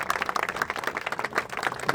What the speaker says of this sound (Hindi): तालियां बजाओ भाई, वो जोरदार बहुत तालियां बजाओ